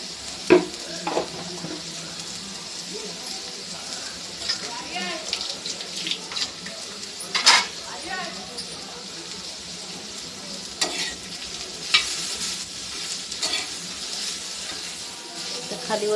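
Eggplant fries in a pan with a soft continuous sizzle, broken by scraping stirs and clinks of a spoon at irregular intervals, while someone speaks occasionally.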